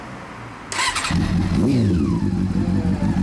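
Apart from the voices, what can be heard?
motorcycle engine starting and revving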